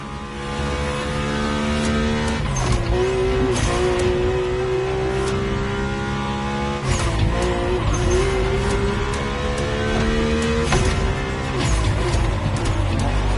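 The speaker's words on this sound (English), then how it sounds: "My ultimate appointment in this country was set with the breathtaking Mercedes AMG 1" Mercedes-AMG One hypercar racing in The Crew game, engine droning steadily throughout with rising revs, gear-change breaks around a few points, and occasional tire noise, loud and continuous.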